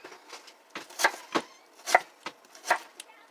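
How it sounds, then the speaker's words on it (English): A knife chops onions into chunks on a board, giving a steady run of crisp, close cutting strokes with sharp thuds between the slices. "So I'm going to do the onions in about that size chunks"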